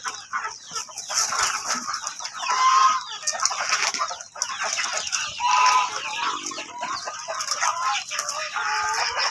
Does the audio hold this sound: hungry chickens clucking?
yes